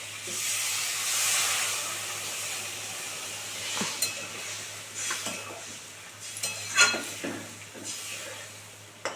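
Mixer-rinse water is poured into a simmering aar fish curry in a pan, giving a hissing sizzle that fades into scattered stirring clinks and scrapes of a spoon against the pan.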